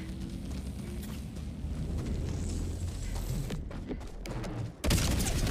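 A Hellbomb explosion in the Helldivers 2 video game sounds as a long rolling boom with crackling debris, followed by a sharp, loud final blast near the end, heard without talk.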